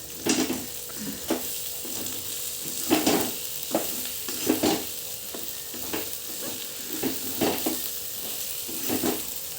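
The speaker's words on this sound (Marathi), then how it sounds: "व्यवस्थित असं हलवून घ्यायचं आणि बघा सुक्क मटण काढून ठेवलेलं आहे आणि हे परत टाकायचं" A spoon stirs mutton curry in a pot as dry mutton is added back, with a steady sizzle and repeated scraping strokes in an irregular rhythm, close and moderately loud, with no talking.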